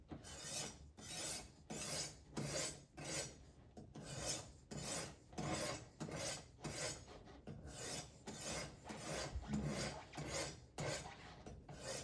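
A knife being sharpened on a Worksharp Precision Sharpener, rhythmic close scraping strokes of steel against abrasive repeating steadily about once per second, with no talking.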